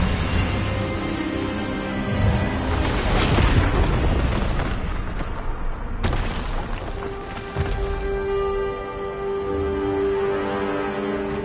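A magical blast from the Expelliarmus spell in the Hogwarts Legacy game: a loud booming burst with a rumbling tail, followed by a sharp second impact and lingering resonant ringing tones.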